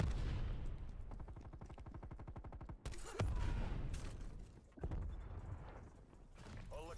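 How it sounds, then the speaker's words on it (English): Heavy War Machine grenade launcher fire in Black Ops Cold War, a rapid rhythmic volley of thumping shots for about three seconds, then sharp loud bangs and blasts over dense, busy game noise. "War machine firing for effect."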